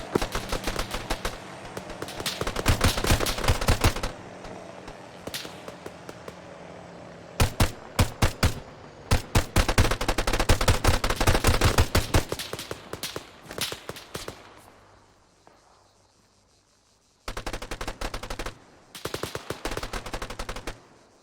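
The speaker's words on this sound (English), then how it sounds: "We're taking fire from the heli. Yeah, return fire." Automatic gunfire trading with a helicopter in the video game ARMA 3, sharp rapid bursts in several clusters separated by pauses, loud and close, with a quiet stretch and engine-like drone between volleys.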